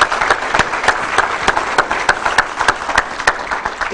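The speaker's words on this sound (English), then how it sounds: "they deserve a massive round of applause along with Diane" Loud, close audience applause at a graduation ceremony for honor dogs, with rapid individual claps standing out sharply over a continuous wash of clapping hands.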